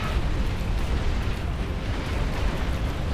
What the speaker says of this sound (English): A lot of the larger nuclear-powered things have a explosion when taken out.